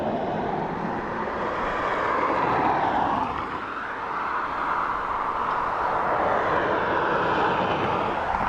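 A jet airliner touching down on the runway at Dublin Airport, a broad sustained engine roar with a shifting tonal whine, steady and fairly distant, without speech.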